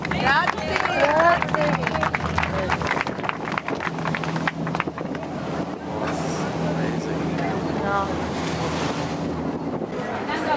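Boat engine drone with wind buffeting the microphone and waves splashing against the hull, cruising on the sea toward Marina Grande, Italy, steady and close, with people talking over it at times.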